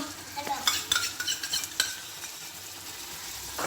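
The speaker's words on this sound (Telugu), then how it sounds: "సో దీన్ని కూడా బాగా సాట్ చేసుకోవాలి" Spring onions and red chilli sauce sizzle and fry in a pan while being stirred, with scraping stir strokes and bursts of sizzling through the first two seconds, then a steadier low fry.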